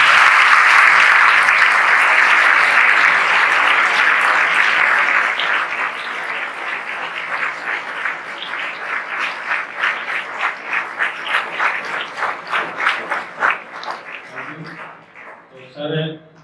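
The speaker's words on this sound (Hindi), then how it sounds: "बेटा एक बार सर का स्वागत कर दीजिए जोरदार ताली।" Students at a road safety and cybercrime session give a senior police officer a loud welcoming round of applause, a dense sustained roar that thins into scattered individual claps before fading.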